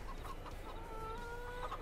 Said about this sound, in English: we can go ahead and check our chickens too